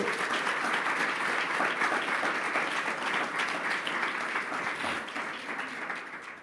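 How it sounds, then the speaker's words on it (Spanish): Sustained applause from a large church congregation during a Bible study, steady and loud throughout, fading slightly toward the end. "Denle un fuerte aplauso a Él"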